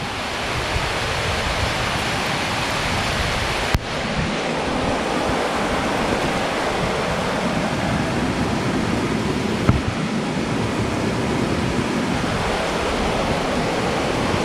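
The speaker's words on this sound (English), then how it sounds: "Well, a great big storm has just broken. I haven't finished this pipe yet," Storm rainwater rushes through a newly laid, unfinished garden drainage pipe at a house build, a loud, steady roaring flow close by, broken by a couple of sharp knocks.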